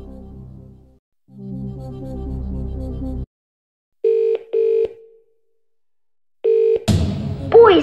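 Phone-a-friend call in a Millionaire DVD video game: a low musical sting, then a few short electronic dialing beeps and ringing tones, ending in a brighter burst as the call connects.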